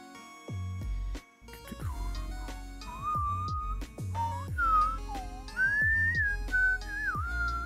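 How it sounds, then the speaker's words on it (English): A person whistles a wandering tune alone, the clear melodic whistle rising and falling in short phrases over low, steady background tones, close and moderately loud. "once I get the whistle warmed up, that's a little better"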